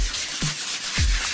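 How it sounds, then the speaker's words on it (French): Hand sanding a ceiling surface between undercoats before painting during a home renovation, heard as two short rubbing strokes close by with a brief scrape in between, no talk. "C'est bon, c'est poncé."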